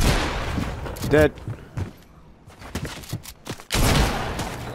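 Gunfire in an online shooter game, several sharp shots and bursts scattered through the moment, fairly close and loud, with a player speaking briefly over it.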